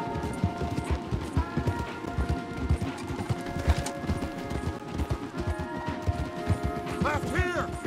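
Horses gallop hard in Red Dead Redemption 2, rapid overlapping hoofbeats pounding continuously and close, with tack rattling and a brief whinny near the end.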